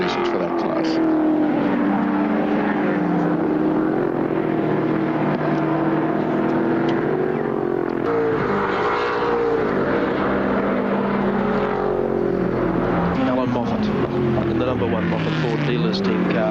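Touring race cars, including a Ford Capri and a Mazda RX3, roar through the cutting at the 1977 Bathurst race. The engine sound is sustained and loud, rising and falling in pitch, while a commentator talks over it.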